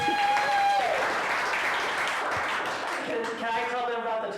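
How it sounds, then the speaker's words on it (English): Sustained audience applause for a comedian in a theatre, with broadband clapping throughout and cheering or voices rising over it at the start and end. "So give Blaze a round of applause."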